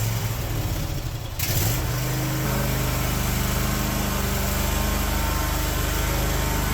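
Cub Cadet 1050 Hydro lawn tractor engine on a coldish start: a short cranking burst, then the small engine catches and runs at a loud, steady, buzzy idle close by, with no talking.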